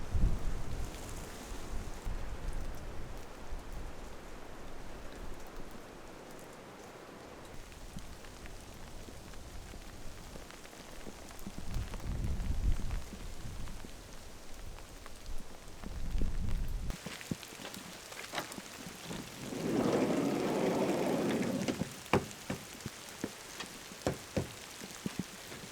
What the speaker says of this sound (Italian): Sta piovendo, però volevo farvi vedere comunque dove ho parcheggiato.